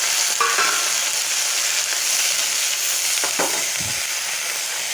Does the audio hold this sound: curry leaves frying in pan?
yes